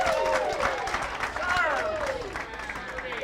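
Crowd at a bowling alley during a ladies championship cheers and claps in a steady, dense wash. Voices ring out over the applause, and it stays loud the whole way through.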